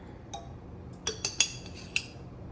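A metal teaspoon scoops Nescafe Gold Intense instant coffee, giving a few light clinks and taps against a jar, spaced irregularly and fairly quiet.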